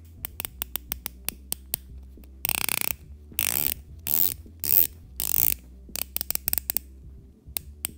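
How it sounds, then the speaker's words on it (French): An aluminium bezel on a Casio Duro dive watch clicks as it rotates, giving crisp ratchet ticks in quick runs, with a few longer scraping turns in the middle, heard close up and alone. "Je vous fais un peu écouter le bruit de la lunette pour vous rendre compte."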